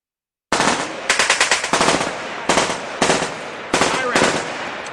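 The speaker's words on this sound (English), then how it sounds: "We got gunshots out here" Sharp, loud gunfire cracks out in rapid bursts of several shots each, with brief pauses between volleys.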